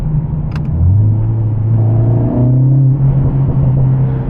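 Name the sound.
Mercedes CLA45s AMG accelerating in manual mode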